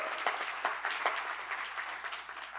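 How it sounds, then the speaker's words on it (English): An awards-event audience applauds the school superintendent, a dense, continuous patter of many hands clapping at moderate loudness for a couple of seconds. "Can we give him a round of applause real quick"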